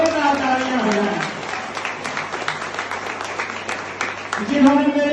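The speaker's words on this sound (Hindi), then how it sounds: "तो एक बार जोरदार तालियां हो जाए," Applause at a celebration rises as a dense patter of claps from a gathered audience, running for a few seconds between stretches of someone speaking into a microphone.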